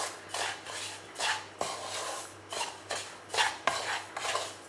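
Semolina (rava) being stirred and roasted in ghee in a pan for kesari, with repeated scraping and clinking strokes of a spoon against the pan in an uneven rhythm, close and moderately loud.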